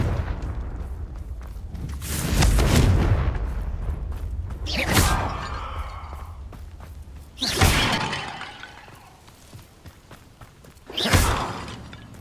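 Confringo blast spells in a wizarding video game shatter vases: several loud bursts of breaking and booming, each with a whoosh and scattering debris, spaced a few seconds apart.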